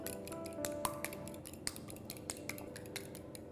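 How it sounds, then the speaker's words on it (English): A fork lightly beats an egg in a bowl, a steady run of quick, light clinking taps against the bowl, close by and moderately quiet, with no voices. "In one bowl I'm going to break an egg. We'll just beat the egg lightly."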